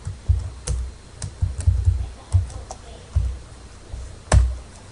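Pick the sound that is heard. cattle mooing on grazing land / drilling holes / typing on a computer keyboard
typing on a computer keyboard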